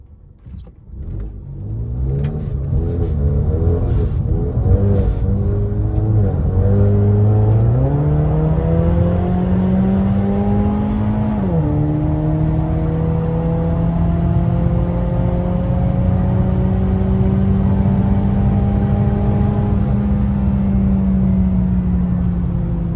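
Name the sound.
drag racing cars accelerating down the strip against a Trans Am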